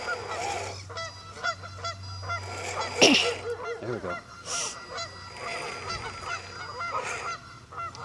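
Geese honk loudly and repeatedly in a burst, with a dog and background noise, while a radio-controlled boat is launched; a person speaks briefly near the end.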